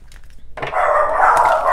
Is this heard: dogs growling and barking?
yes